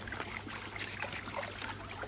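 Pyrenees mountain meltwater trickles and babbles softly over rocks, a gentle continuous burble with no voices.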